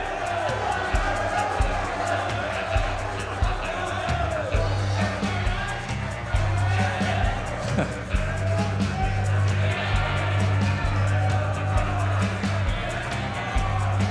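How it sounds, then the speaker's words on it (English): Studio audience cheering on a countdown contest, with a continuous crowd roar and whoops under a loud host's voice talking throughout. "And let's cheer them on, everybody."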